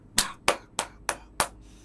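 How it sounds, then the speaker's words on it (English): Signature clap sample from a music producer's beats, five crisp, evenly spaced claps roughly a third of a second apart, close and isolated with short decaying tails. "There's a particular clap I use like almost all of my productions"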